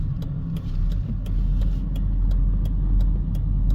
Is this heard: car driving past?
yes